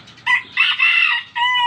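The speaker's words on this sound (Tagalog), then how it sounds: "tilaok siya ng tilaok" A bantam rooster crows loud and close, one drawn-out, strained call broken into a few segments and ending on a sustained high note.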